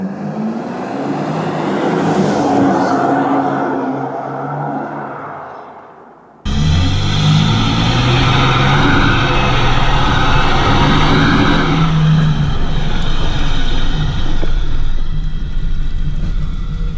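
Loud diesel engine of a heavy car nicknamed the tank, idling roughly and then revving hard, a dense continuous roar close by with a brief dip before it surges back even louder and holds steady.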